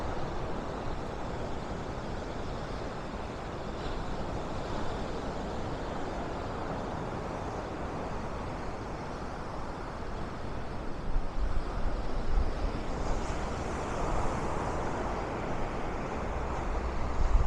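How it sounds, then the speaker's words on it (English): Big surf rolls in steadily at Manly Beach on Sydney's North Shore, waves several times a person's height keeping up a dense, continuous roar blended with wind buffeting the microphone, growing slightly louder toward the end. "There are waves like 3 times the height of a normal bloke."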